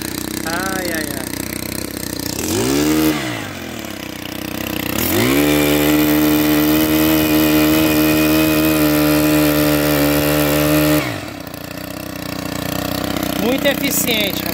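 A STIHL petrol earth auger drills into soil for planting, its engine revving up loudly, holding a steady high drone for several seconds, then dropping back to idle, with someone talking around it.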